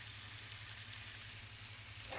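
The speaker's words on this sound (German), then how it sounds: "Das lassen wir jetzt auf der Seite auch noch ein bisschen mitbraten." Pork neck fries in a pan, a steady, close sizzle with fine crackling and a low electric hum underneath, no voices.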